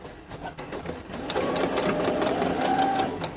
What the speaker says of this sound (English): Lining everything up, sewing everything together.